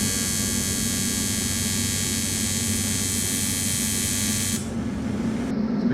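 Continuous buzzing hum of a welder tack welding pie-cut intercooler piping for a Honda CRX Si, steady and close throughout with a brief drop near the end.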